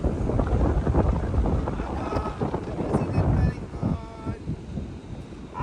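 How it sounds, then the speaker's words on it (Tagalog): Strong, cold gusts buffet the microphone in Upper Hutt, New Zealand, a loud, continuous rumbling roar that swells and eases, with voices talking faintly underneath. "Hangin, grabe ang hangin dito guys."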